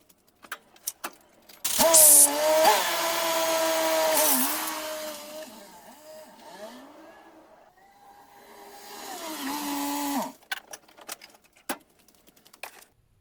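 A Suzuki Sidekick / Geo Tracker engine is heard close for a short drive around the block, with a strong steady hum and whine that rises and falls, then fades to scattered clicks and rattles.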